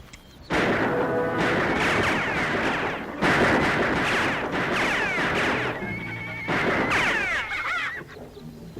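Horses neigh and whinny loudly and repeatedly in bursts, with hoofbeats and outdoor commotion in a Western frontier setting.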